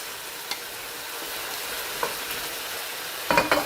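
Colored bell peppers and carrots frying for vegetable vermicelli, a gentle sizzle with faint scattered clicks, then a burst of louder stirring scrapes near the end.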